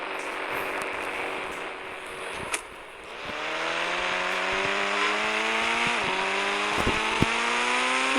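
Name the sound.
Bugatti Chiron car driving in a video game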